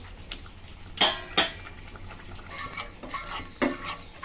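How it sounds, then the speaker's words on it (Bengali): A spoon stirs boiled mung dal in a metal pot, scraping and knocking the sides in a few sharp clinks amid softer sloshing and rubbing, close by with no talking. "এখন ডালগুলো আমি সুন্দর করে একটু মিশিয়ে নেব"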